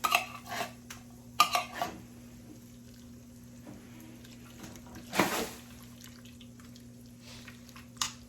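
A spoon scrapes condensed mushroom soup out of a metal can while a tuna casserole is prepared, making a few sharp metallic clinks and scrapes spaced apart over a quiet background.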